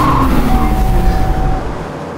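A BMW M3 Competition drifts with its tires skidding and squealing, a loud close engine roar over a sustained tire squeal that fades slightly at the end.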